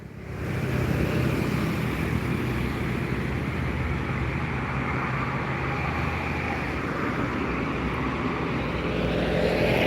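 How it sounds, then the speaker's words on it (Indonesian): Heavy road traffic of buses and trucks on the Jalan Lintas Timur highway near Palembang, South Sumatra, a continuous loud engine and tyre roar that swells as vehicles pass close by. "bus dan truk yang melintas di Jalan Lintas Timur Palembang, Sumatera Selatan"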